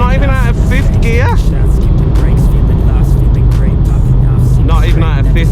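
A VW Golf R MK7.5 engine pulls hard in fifth gear, a steady loud low drone with rising whining tones running throughout, with someone talking over it.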